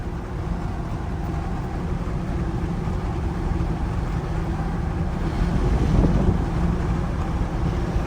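Steady buffeting wind roars over the microphone while a Ford truck drives on a windy day, a dense, continuous whoosh that swells slightly toward the end and masks other road sounds.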